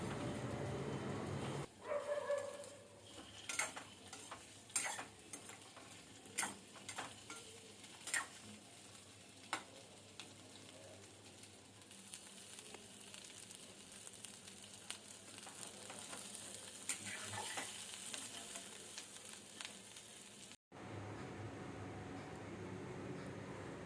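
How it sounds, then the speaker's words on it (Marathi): Potatoes fry lightly in ghee over a medium flame for dum aloo, a soft continuous sizzle broken by repeated light stirring taps and scrapes, with a dog yipping faintly in the background. "आता हे सर्व बटाटे आपल्याला तुपावर हलकेसे परतून घ्यायचे आहेत"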